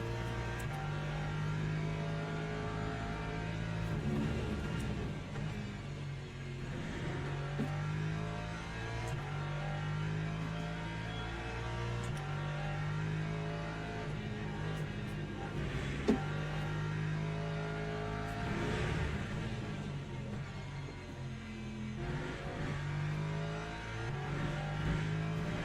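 A Le Mans Ultimate hypercar engine drones and revs steadily throughout, rising and falling in pitch as it passes close by, with no talk over it.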